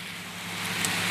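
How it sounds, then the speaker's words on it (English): Heavy rain pours down in a steady, dense hiss that grows slightly louder, with no voices over it. "It's raining like cats and dogs"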